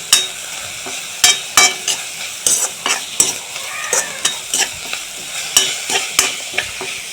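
Vegetables frying in a pan with salt and turmeric, stirred steadily: a constant close sizzle punctuated by regular scraping spoon strokes against the pan, with no talking.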